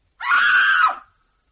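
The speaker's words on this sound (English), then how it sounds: "Your scream woke me." A single sustained scream of about a second in a radio ghost drama, loud and close, rising sharply and fading out into silence.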